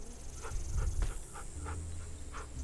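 Dog Rosie in The Walking Dead video game whimpering and panting, a close series of soft, high whines repeating every half second or so over quick breathing.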